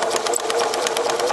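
A sewing machine stitching a straight line through fabric, giving a fast, even, close mechanical whir and patter that runs without a break.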